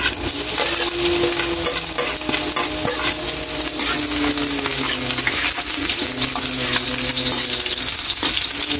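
Garlic sizzles and spatters in hot oil alongside ginger in a pot for pork dinuguan, a loud continuous fry with frequent stirring clatter and crackles throughout.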